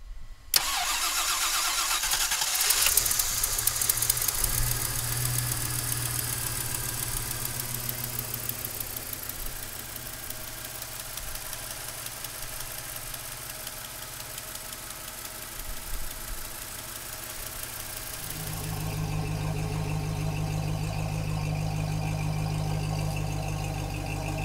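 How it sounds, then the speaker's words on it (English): A 1963 Lincoln Continental engine cranks briefly, fires up and settles into a steady, close idle with a deep rumble and a slight shift in tone near the end; no one speaks. "we'll fire it up for you right now"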